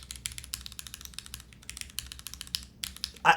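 Arrow keys tapped on a TKD Cycle7 mechanical keyboard, a quick irregular run of close, crisp clacks and thocks, with a louder knock at the end.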